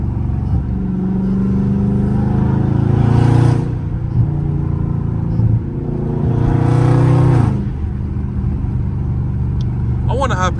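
A loud Dodge Charger Scat Pack engine revs and accelerates on a street, heard from inside the car in two rising surges with lower rumble between, while someone talks over it.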